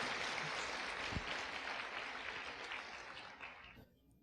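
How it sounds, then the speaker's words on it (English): Audience applause at a Silicon Valley talk, steady broadband clapping at moderate level that gradually tapers and cuts off near the end. "Let's give a round of applause again"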